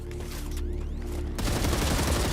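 Assault rifle fire in StarRupture: a quieter stretch with a descending whine gives way to a loud burst of rapid, close automatic shots.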